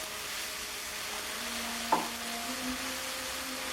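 Sliced chilies frying in a very hot pan give a steady, moderately loud sizzle throughout, with one brief clink of stirring midway.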